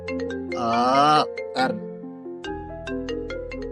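A phone rings with a melodic electronic ringtone, bright sustained tones followed by a series of short plinking notes, close and clear.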